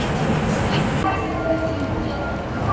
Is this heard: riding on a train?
yes